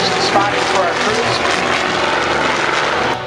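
A Bird Dog spotter airplane flies over an air show. Its loud propeller engine drones steadily and stays close, while a commentator talks over the top.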